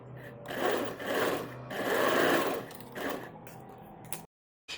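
A sewing machine stitches a neck strip onto a little girl's kurti in several close, uneven bursts of whirring, each with a slightly rising and falling pitch, ending in a sudden silence.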